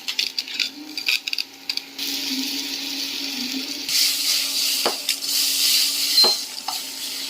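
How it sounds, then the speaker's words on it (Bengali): Half-boiled potatoes seasoned with salt and turmeric fry in oil in a pan for biryani, a bright continuous sizzle punctuated by metal spatula scrapes and clinks as they are stirred, close and with no talking. "আর এই পাশটায় দেখুন আলুটা ভাজা হচ্ছে"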